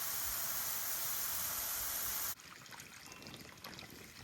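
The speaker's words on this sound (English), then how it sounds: "Just the sound of water out in the desert is so beautiful." Water trickles steadily into an outdoor soaking tub in the desert, a soft hissing splash that drops to a quieter burble halfway through, close and alone with no voices.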